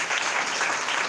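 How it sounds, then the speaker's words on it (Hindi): Loud, dense applause from a congregation at a Sunday church meeting, steady clapping filling the whole short moment without a break. "जोरदार ताली बजाए परमेश्वर।"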